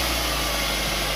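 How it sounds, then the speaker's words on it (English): A test engine fitted with carburettors runs at a steady idle, a constant loud, close hum and rumble with no change in pitch. "So that is our test engine."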